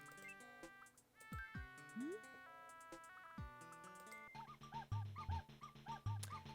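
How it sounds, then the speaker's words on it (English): Little dog barks set into a song from the Animal Crossing video game, short tuned yips scattered over a tinkly melodic backing, clear and upfront with no talk. "I want the little barks."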